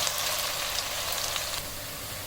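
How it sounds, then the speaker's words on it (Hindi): Chopped onions sizzle and fry in hot oil in a home kitchen pan, a steady close crackling hiss that runs unbroken and fairly loud throughout, with no voices over it. "ऑयल यहाँ पे गर्म हो चुका है। अब इसमें प्याज शामिल कर देंगे।"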